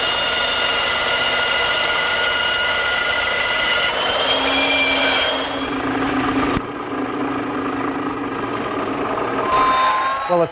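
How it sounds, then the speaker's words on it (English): A router fitted with a 3/4 inch round over bit shapes wooden wheelbarrow handles, a loud continuous high whine with shifting pitch as the cut progresses, close by and without talk. "a 3/4 inch round over bit set up in my router makes this step a lot easier"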